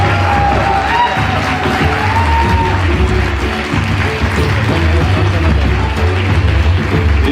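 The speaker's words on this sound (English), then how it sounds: "Come on, let's keep the applause going." Loud, dense applause and cheering from a large audience at a public event in Pune, a continuous crowd roar of clapping and voices filling the space, with a speaker's voice faintly over it.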